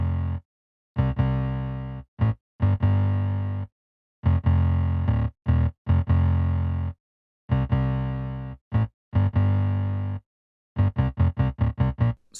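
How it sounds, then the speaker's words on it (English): A synth bass pattern built from a Sakura synth layered with a distorted sine wave plays in rhythmic stop-start phrases, loud and alone, with sharp gaps of silence between bursts. "the bass is actually 2 sounds layered on top of each other"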